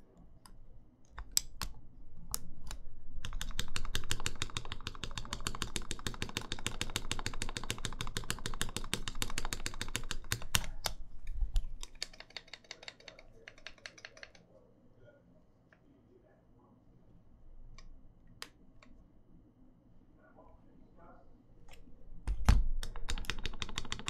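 Custom mechanical keyboard with GMK keycaps, a Caustic Custom TGR 910SE, typed on in rapid clacking bursts for about twelve seconds, then sparser taps and spacebar hits, with people talking intermittently.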